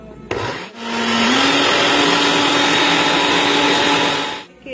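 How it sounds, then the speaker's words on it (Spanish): A blender whips coffee until frothy, starting with a click and then a loud, steady whirring drone that holds for about four seconds before cutting off, with no talking. "Así que vamos a batir."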